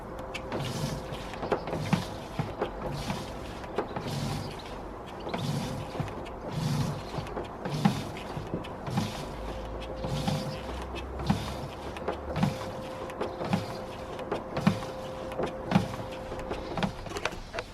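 A hand pump siphoning petrol from a new car's fuel tank into a draining bottle, working in a steady rhythm of creaking, squeaking strokes roughly every second, close and moderately loud with no talk.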